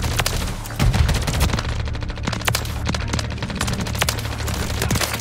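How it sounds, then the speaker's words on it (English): Rapid automatic gunfire from a gun in Modern Warfare 3 rattles loudly and continuously in close bursts, with a heavier boom early on and no talking. "I love the sound of this gun, bruh"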